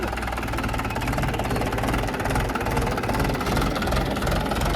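A tractor pulling an automatic seed drill runs in a field during sowing. Its engine gives a loud, close, continuous rumbling drone with a steady pulsing chug throughout.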